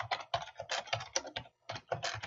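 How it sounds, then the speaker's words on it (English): Computer keyboard being typed on during a live software demo of a Cognos Analytics dashboard, with quick bursts of close, clattering keystrokes separated by short pauses. "So I'm just going to type in"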